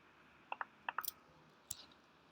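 Sharp, quiet computer mouse clicks while working in web software, a few single and double clicks scattered across a near-silent room.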